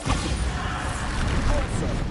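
A Bombarda blasting spell goes off in Hogwarts Legacy, a dense, loud burst of crashing, rumbling noise that fills the whole brief moment, with a voice talking over it.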